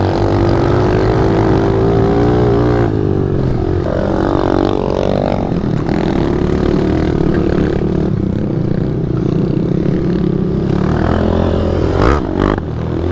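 A motorcycle engine revs and pulls hard on a dirt trail, a loud, close, continuous roar that rises and falls with the throttle, with faint clattering near the end.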